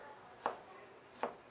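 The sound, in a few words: butcher chopping pork belly with a knife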